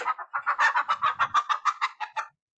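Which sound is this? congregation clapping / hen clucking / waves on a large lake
hen clucking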